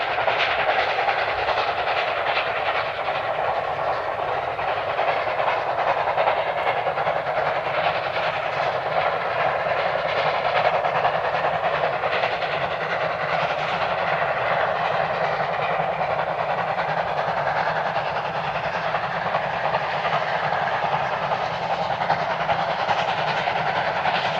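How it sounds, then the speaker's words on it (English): A steam train rolls steadily along the tracks, its wheels beating a continuous clickety-clack under a broad, constant rumble. "waking up to the clickety-clack of the railway tracks"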